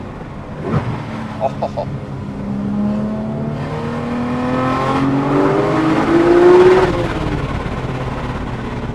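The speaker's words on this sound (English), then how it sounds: "Just a blip on the throttle there." A Porsche 911 GT3 Touring engine revs with a quick throttle blip, its note climbing in pitch as the car accelerates, loud and close, with a brief exclamation from an occupant.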